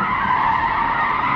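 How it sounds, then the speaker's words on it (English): Car drifting through a corner with tires skidding and squealing, a loud continuous screech holding steady across the whole stretch under engine noise, no talk. "All right, she drifts."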